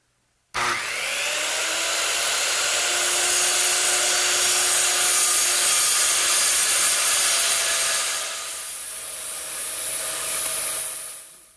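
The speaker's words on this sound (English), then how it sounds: "I'm going to use my circular saw to take out that material" Circular saw cutting through hardboard on a workbench top, a loud, continuous high whine under load for several seconds, easing slightly near the end before stopping.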